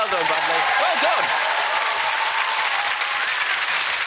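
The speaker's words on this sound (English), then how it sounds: "Round of applause," A studio audience gives a sustained round of applause for a boy named Bradley on a Christmas entertainment show, dense steady clapping at full volume, with a voice briefly calling out over the start.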